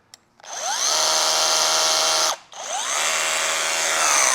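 A repaired Bosch rotary hammer runs close and loud, spinning up to a steady high whine, cutting out briefly, then revving back up and running on.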